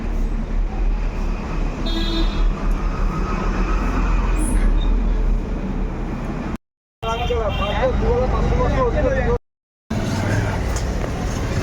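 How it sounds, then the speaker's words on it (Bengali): A train runs past on a railway line, a loud, continuous rumble and clatter close by, with a brief horn-like tone and voices in the background, broken by two short dropouts. "আমরা ট্রেন লাইনের উপর দিয়ে এই যে ট্রেন যাচ্ছে"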